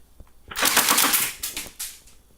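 A remote-controlled robotic airsoft gun fires a rapid burst of loud, sharp clattering shots lasting over a second, then a few quieter trailing pops.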